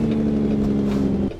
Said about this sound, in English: I still like how the Cummins engine brake sounds.